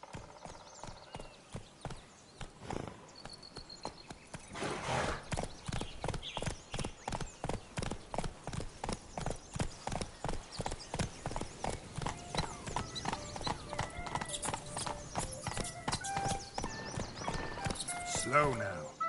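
Horse hooves clip-clop steadily in The Witcher 3 as the mount walks and then picks up pace, a close, regular rhythm with a whinny and some game talk mixed in.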